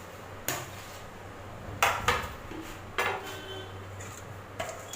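Several sharp metallic clanks of a pan being handled and turned over on a hard surface while making spring roll wrappers, spaced irregularly, with faint room noise between.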